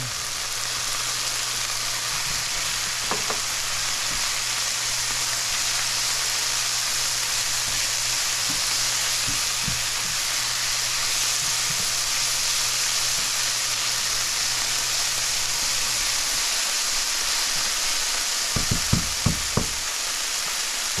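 Garlic fries in a pan in a steady, close, hissing sizzle that runs without a break, with a few faint clinks and taps toward the end.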